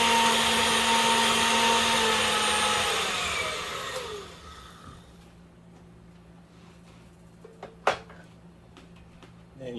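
Countertop blender running on its highest liquefy setting, pureeing tomatoes for tomato soup: a loud steady whirring roar for about four seconds, then the motor winds down into quiet, with a sharp knock near the end.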